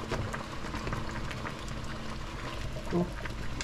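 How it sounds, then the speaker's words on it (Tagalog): Hot water pours and splashes steadily into a pot of ginataang tulingan, a soft continuous liquid rush with light clinks, no talk over it. "Konti lang na mainit tubig."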